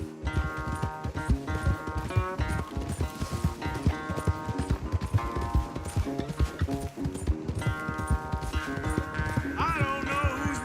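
Horses gallop in a race in the Red Dead Redemption 2 video game, rhythmic hoofbeats driving under a prominent tonal music score, with a whinny near the end.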